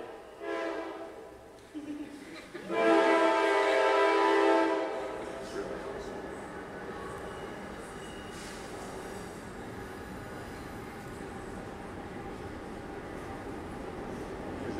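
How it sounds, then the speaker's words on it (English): A train rumbles beneath the floor in Athens, swelling loud and harmonic for a few seconds before settling into a steady low rumble that continues throughout. "where does that rumble that's underneath the floor right now live"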